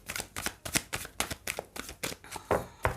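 Tarot cards being shuffled and drawn, a rapid run of close, crisp riffling snaps and flicks in an irregular rhythm, with no voices.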